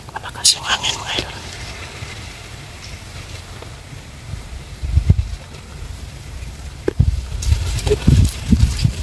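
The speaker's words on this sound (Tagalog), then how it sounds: "Malakas yung hangin mga idol." Strong wind roars and buffets the microphone outdoors, with loud low gusts swelling around the middle and again toward the end, while people talk briefly.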